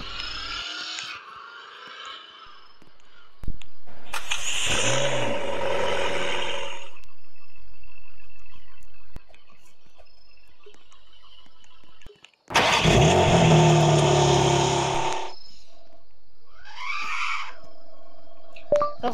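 Video game car engine bursts: a short roaring rev, then a longer loud revving stretch, a pause, and another strong rev and acceleration, separated by quiet gaps with small mechanical noises.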